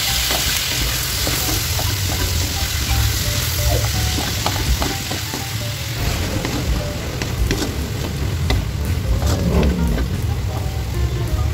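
Chopped onion and tomato sizzle loudly in a hot oil pan while cooking pork binagoongan, a steady dense frying crackle with occasional stirring clinks throughout, no talking.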